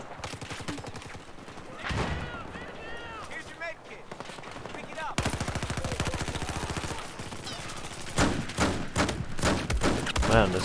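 An AEK-971 rifle fires in Battlefield 4. Rapid automatic bursts crack out over several seconds amid other game noise and a faint voice.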